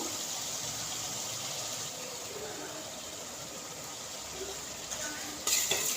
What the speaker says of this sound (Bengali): এভাবে নাড়বেন এক মিনিট মতো তো আমি মশলাটা কষে নিচ্ছি